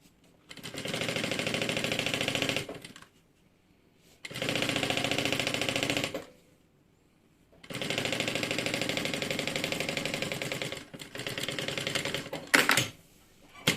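A sewing machine stitches a seam on a Paris-themed toiletry bag, running in four steady bursts of rapid whirring separated by short pauses, loud and close, with brief handling noise near the end.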